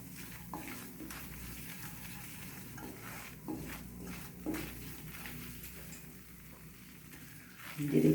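Flour being stirred and gently roasted on low heat in a pan for a white sauce, giving a steady soft scraping and faint sizzle throughout, with a few light utensil clicks and a louder knock near the end.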